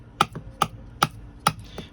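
A BPS HK2 CSH bushcraft knife does light chopping with a two-finger grip: four sharp, evenly spaced blows, each followed by a softer knock, close and clear with no talking.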